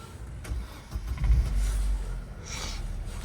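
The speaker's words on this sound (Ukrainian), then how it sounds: "Заводиться авто гарно, як на холодну, так і на гарячу" An Opel Zafira 1.8 with a manual five-speed gearbox cranks and catches, then settles into a low, steady idle rumble close by.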